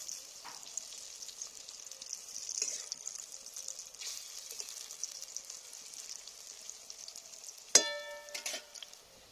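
Bottle gourd dumplings fry in a pan of hot oil, giving a soft continuous sizzle with scattered crackles and a sharp utensil clatter near the end.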